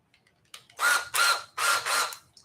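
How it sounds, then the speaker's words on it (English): A drill in a workshop whirs in four short bursts, each revving for about a quarter second with brief pauses between, close and fairly loud while the bit is swapped for a larger one. "I'm gonna switch the drill, the bit, to a larger bit"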